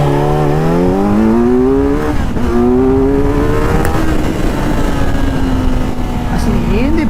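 A Kawasaki Z900 with an inline-four engine revs at an auto expo, loud and close, its pitch climbing in strong sweeps before settling into a steadier high drone, with voices in the background.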